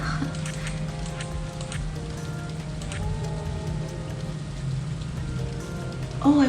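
Steady rain patters in the farming game Stardew Valley, a constant soft wash of sound with a faint low hum underneath and a brief game sound near the end.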